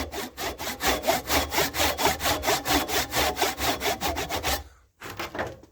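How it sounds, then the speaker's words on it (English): A hand saw cutting down the edge of a piece of wood in a steady back-and-forth rhythm of about twenty close, rasping strokes, stopping briefly before one last stroke. "I'm going to saw down to begin with, sawing down the edge of the wood here."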